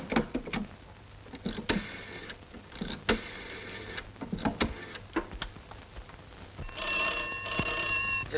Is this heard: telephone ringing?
yes